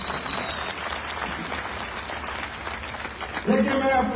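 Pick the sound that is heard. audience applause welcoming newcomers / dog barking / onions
audience applause welcoming newcomers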